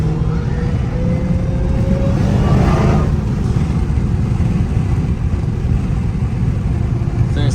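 Supercharged Dodge Hellcat cruising through rush-hour traffic, a loud steady engine drone with a rising supercharger whine near the start, heard from inside the car with no one talking.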